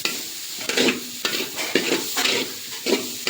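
Cabbage for noodles is stir-fried in a pan with a close, continuous sizzle and rhythmic scraping strokes of the spatula, about six pushes in quick succession, with no voices.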